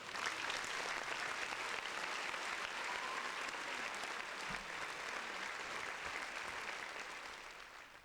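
Sustained audience applause fills a comedy podcast, a broad, continuous roar of many people clapping together that holds steady and begins to taper off near the end.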